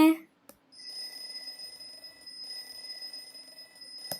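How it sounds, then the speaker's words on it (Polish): An alarm clock in the Toca Boca video game rings with a steady high electronic tone lasting several seconds, after a short burst of sound at the start and a faint click near the end. "to ten budzik tylko dzwoni"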